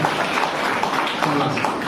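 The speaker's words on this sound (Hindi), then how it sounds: "जोरदार ताली से स्वागत करें और मजा लें इस गेम का" Applause at a school farewell program welcoming a game, a steady wash of clapping from an audience lasting the whole short moment, with some voices mixed in.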